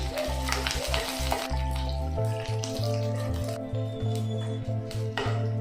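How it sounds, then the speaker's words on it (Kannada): Chopped onion, mustard seeds and curry leaves fry in hot oil for buttermilk sambar, giving a constant close sizzle with bright crackling spits over a steady low hum. "ಈಗ ಇದು ಫ್ರೈ ಆಗಬೇಕು ಸ್ವಲ್ಪ ಈರುಳ್ಳಿ"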